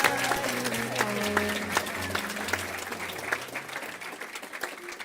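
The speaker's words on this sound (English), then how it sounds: "Give him a round of applause, everybody." An audience at a college awards ceremony applauds a student's win, steady sustained clapping with background music tones underneath, fading slightly toward the end.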